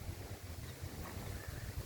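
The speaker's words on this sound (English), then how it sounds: "Got some good wind gusts. Sometimes they're really strong." Strong gusty wind buffets outdoors on a breezy day with a typhoon offshore, a loud continuous rumble with fluttering bursts, no voices.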